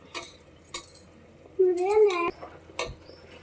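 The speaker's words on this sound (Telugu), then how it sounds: "వేసేసుకొని మంచిగా కలిపేద్దాం" A spoon scrapes and clinks against a pan while coconut and ginger-garlic paste are stirred in, several separate knocks around a brief higher-pitched squeal in the middle.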